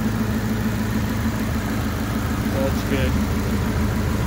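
A homemade go-kart engine idles steadily up close with a running cooling fan, a constant low throbbing drone while someone talks over it.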